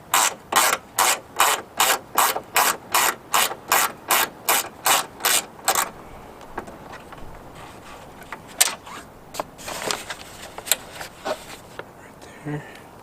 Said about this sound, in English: you got to take this screw off, this nut there